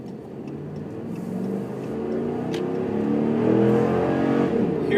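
A 2014 Ram 1500 Hemi pickup's engine rumbles and builds steadily in pitch and loudness as it accelerates, heard from inside the cab at close range with no talking.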